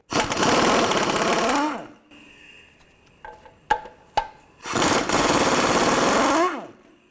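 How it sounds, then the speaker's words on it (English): Power tool spinning off nuts with a 15mm socket on a 2006-2011 Cadillac DTS during radiator work: two loud, close whirring runs that wind down in pitch, with a few sharp metallic clinks between them. "Remove these two nuts. Use a 15mm socket."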